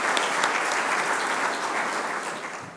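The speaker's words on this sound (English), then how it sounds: "So let's applaud Mr. Jaitley for coming to Australia." An audience at a community event welcoming a visiting finance minister in Sydney claps in a dense, sustained round of applause that stays loud and then eases slightly toward the end.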